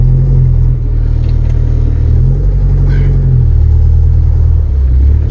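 The diesel engine of a 1984 Ford Ranger pickup drones and revs loudly while its driver's side rear tire spins, a heavy low rumble holding steady with small surges throughout.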